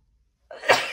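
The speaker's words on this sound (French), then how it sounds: "Oh pardon, j'éternue." A woman gives one sharp, close sneeze indoors after a moment of silence.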